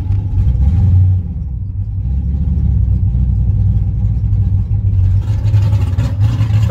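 A car's engine, running on a five-year-old Walmart battery, fires up and settles into a loud, steady low rumble at close range.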